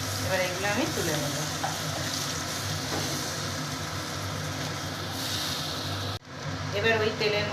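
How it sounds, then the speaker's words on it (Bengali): Paste of ginger, garlic, tomato and onion hits hot oil in a wok just emptied of fried prawns, giving a loud, steady sizzle and frying hiss that runs throughout, with a brief cut near the end and a renewed crackle after. "এবার ওই তেলের মধ্যে আগে থেকে পেস্ট করে রাখা আদা, রসুন, টমেটো আর পেঁয়াজ দিয়ে দেব।"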